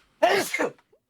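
A single loud, close sneeze bursts out in two quick voiced parts during a casual podcast about retro games, followed by silence.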